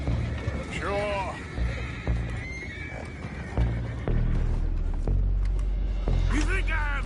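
Horses neigh and whinny repeatedly in the Red Dead Redemption 2 video game, with hooves clip-clopping and game characters talking over the scene at moderate distance.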